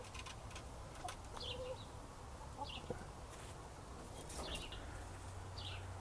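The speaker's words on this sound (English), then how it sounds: "We got a clean coop, fairly happy chickens that still haven't laid their eggs for the day." Chickens in a backyard coop give off soft, scattered clucks and chirps over a steady low background hum, fairly quiet and continuous.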